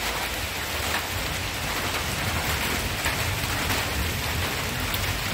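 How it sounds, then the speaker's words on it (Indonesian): Rain falls steadily as a dense, even hiss, with no voices and no change in loudness throughout. "Ini masih hujan"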